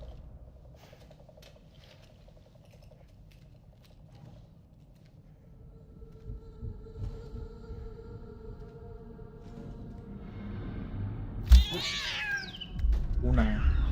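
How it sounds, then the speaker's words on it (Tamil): Cat meows ring out in a Death Stranding 2 game stream, rising near the end as a few loud, clear calls over a low rumbling game backdrop, with someone talking throughout. "பூனை."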